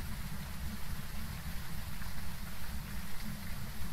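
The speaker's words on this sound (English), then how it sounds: "back to the really loud rain" Heavy, loud rain from the ghost-hunting game Phasmophobia pours down without a break, a dense, steady hiss with a low rumble underneath and no voices.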